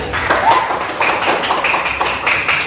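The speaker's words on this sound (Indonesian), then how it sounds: "tepuk tangan untuk teman kalian" Students in a classroom clapping together for a classmate, a short burst of dense, fairly loud hand claps that continues evenly throughout.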